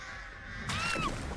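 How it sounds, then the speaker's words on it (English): Crows caw in the video game Dead by Daylight, heard as a couple of harsh, rasping calls over a steady ambient game background at moderate distance. "These crows."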